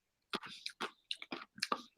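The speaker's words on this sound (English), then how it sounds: "So if you hear some crunching on my end, it's ice, not robot." Ice crunching in a chilled water bottle drawn from the freezer, heard as a quick series of crisp, close crunching bursts with short pauses between them.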